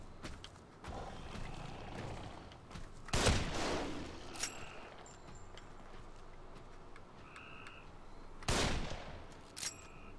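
Gunfire in The Evil Within, two heavy blasts several seconds apart standing out over a low, murky game ambience, followed by a few smaller sharp clicks and tones.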